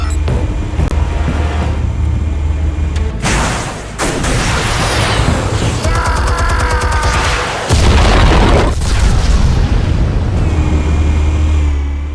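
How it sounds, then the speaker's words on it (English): Explosives detonating in the Telltale Batman video game, heard as loud booming blasts and heavy rumbling over a constant low drone, with a sharp burst near the middle and another around the later part, no talk. "Explosives armed. Fire when ready."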